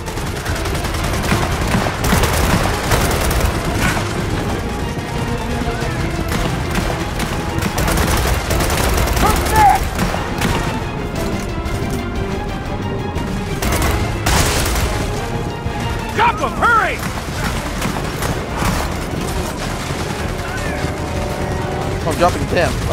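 Loud, sustained gunfire crackles almost without pause in Gears of War 4, with bursts and booms layered over one another and voices speaking throughout the battle.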